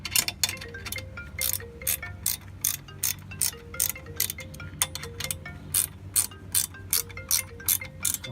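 Wrench ratcheting bolts tight on a Stowaway 2 cargo carrier swing arm, a series of quick metallic clicking bursts in short uneven runs, close and fairly quiet with brief pauses between turns.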